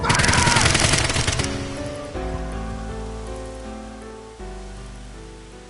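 Rapid automatic gunfire from the AI: The Somnium Files video game, a dense loud burst for just over a second that then cuts to a ringing musical tone fading away.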